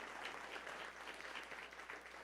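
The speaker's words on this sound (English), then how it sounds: "Let's give a big round of applause for Audrey as well as for our guest here." A hall audience at a scholarship celebration gives a round of applause for a student and a guest, a steady, moderately distant clapping that carries on evenly without any speech.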